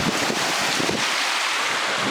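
Ocean waves and strong wind at the coast, with heavy wind gusts buffeting the microphone and a steady wash of surf underneath, loud and continuous throughout.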